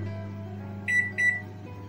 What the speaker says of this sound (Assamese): গতিকে ওভেনত দি দিও এতিয়া 3 মিনিটৰ কাৰণে